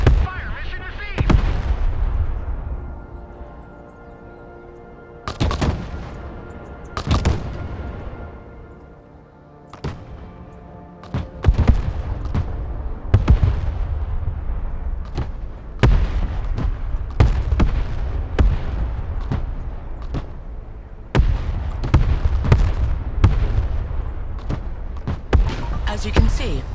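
Artillery in the Broken Arrow video game fires a mission of repeated heavy booms, some spaced apart and others in quick clusters, each with a long rumbling tail, while voices talk over parts of the barrage.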